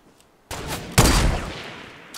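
Two hunting rifle shots ring out in the Fortnite video game, a sharp crack followed half a second later by a louder blast with a lingering decaying tail, close and alone.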